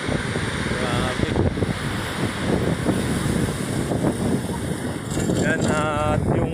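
Strong, steady typhoon wind roars across the microphone with gusting rumble, and waves or rushing water churn beneath it, loud and constant throughout, in Dingalan, Philippines.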